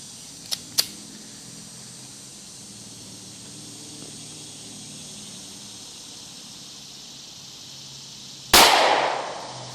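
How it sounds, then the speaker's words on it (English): A single 357 SIG pistol shot, a Winchester PDX1 125 grain hollow point, cracks sharply near the end after quiet outdoor ambience, with two faint clicks early on and a fast-decaying echo. "Next up, 357 SIG, the Winchester PDX1 125 grain hollow point."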